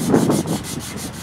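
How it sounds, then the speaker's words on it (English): Hand sanding along the coves and ogee profiles of a wooden Sesame Street sign base gives a close, rhythmic scratchy rubbing, with several quick back-and-forth strokes in about a second. "The coves and OGs are sanded by hand."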